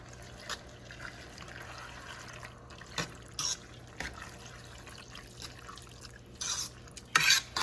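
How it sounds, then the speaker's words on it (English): Spaghetti sauce, the kind also used for lasagna, being poured and scraped from cans into a dish: a quiet, continuous wet sloshing with a few sharper spoon or can clinks, close by, with no talking. "I'm just putting the sauce over in here."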